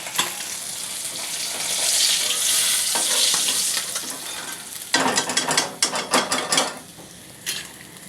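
A fish head frying in a pan: continuous loud sizzling oil, then a burst of scraping and clattering as it is stirred and turned, with irregular sharp spatula knocks.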